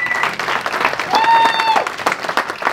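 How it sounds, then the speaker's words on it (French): Event crowd at a drone-versus-kart gathering claps loudly throughout, with a whistle-like tone rising briefly in the middle and voices mixed into the din. "Vous pouvez vous applaudir"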